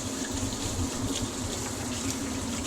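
Cold water running from a kitchen sink tap, a steady close-up gushing splash lasting throughout with no voices.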